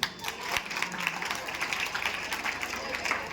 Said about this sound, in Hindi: ताली बजाओ मेरे भारत के लिए